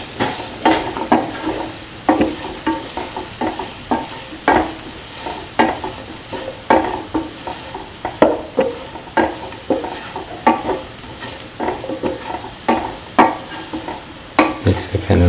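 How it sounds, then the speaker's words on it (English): Ingredients with fennel powder are stirred in a frying pan: a close, rhythmic run of scraping strokes over a light sizzle, repeating steadily throughout. "Mix all the ingredients thoroughly in with each other."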